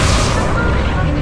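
Incendio fire spell cast in Hogwarts Legacy: a brief, loud whooshing roar of flame with a dense low rumble, heard up close in a short burst.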